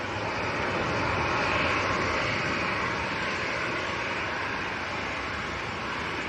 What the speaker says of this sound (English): Ryanair next to go.